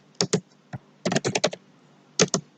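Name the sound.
typing data on a computer keyboard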